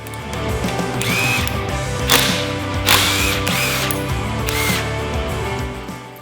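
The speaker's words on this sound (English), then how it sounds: "first we're gonna remove the 12mm bolts that hold the clamp on for the handlebars." Ratchet working loose the 12mm bolts on the handlebar clamp of a Honda CB750K motorcycle, with steady mechanical clicking and a few louder bursts of ratcheting, close up with no talking.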